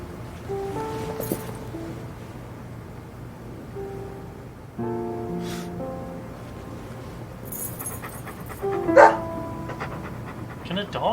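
A dog in the video game Deadly Premonition pants and lets out a few barks, close by, over soft game music with voices talking intermittently.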